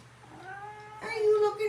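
A cat in a bathroom lets out a drawn-out, wavering meow while looking at her reflection in the mirror, close and fairly clear, rising into a louder second note.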